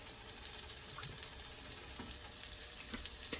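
Beef sautéing in a pan in oil and sesame oil, a steady close sizzle with constant fine crackle and occasional soft pops, no voices over it.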